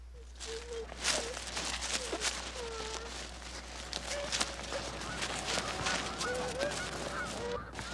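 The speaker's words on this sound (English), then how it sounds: "We're looking at the geese." Migrating geese honk repeatedly at a pond, many calls overlapping at middling distance over steady outdoor background noise, with a few louder honks standing out.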